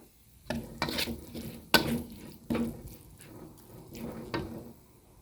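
Pork panang curry with pea eggplants stir-fried in a pan: a spatula scrapes and clanks against the metal in irregular strokes over a low sizzle, fairly close, with no talking.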